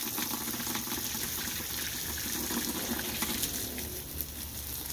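Water runs steadily from a hose while a garden lawn is watered, a faint, constant gushing hiss with no break.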